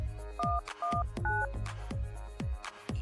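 Telephone keypad tones dialing a 119 emergency call, heard as a series of short, clear beeps one after another, loud and close, with no talking.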